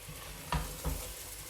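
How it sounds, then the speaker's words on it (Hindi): Spinach and potato frying in a pan, a soft sizzle broken by two quick stirring scrapes about a third of a second apart, faint and close. "अच्छी तरह भून लेंगे।"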